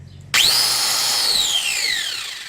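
Electric motor with a faulty armature winding spinning up after a sudden start, a loud, rising whine like a drill that holds steady and then slowly sags in pitch and volume, heard alone.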